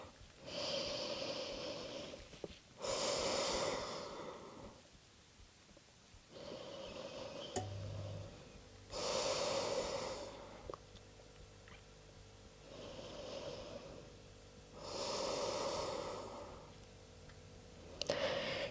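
Slow, deep yoga breaths during an advanced vinyasa flow, each airy inhale and exhale lasting a couple of seconds in a steady rhythm, close and quiet with soft pauses between.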